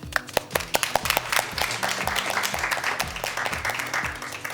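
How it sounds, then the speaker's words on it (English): An audience applauds at a live quiz competition's quarter-final, starting with a few distinct, sharp claps that quickly swell into dense, sustained clapping from a crowd. "Let's give them a big round of applause."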